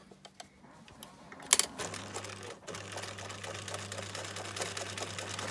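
A sewing machine stitching a pencil pouch, starting after a few light clicks and handling noises, then running in a continuous fast mechanical whir with a steady hum, close and fairly loud.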